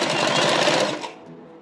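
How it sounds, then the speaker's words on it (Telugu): A sewing machine stitches a shaping belt for a blouse, a loud close whirring run of rapid stitches that stops abruptly near the end, leaving quiet room tone. "ఈ మూడింటి మీద కుట్టు వేస్తున్నాం"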